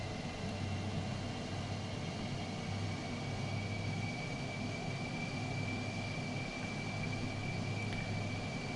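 A military jet taxiing slowly across a supercarrier deck in Microsoft Flight Simulator gives a steady, continuous engine drone with a low rumble and faint high whine, no voices.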